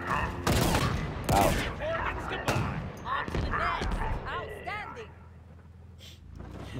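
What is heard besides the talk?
base defense turrets firing in Halo Infinite video game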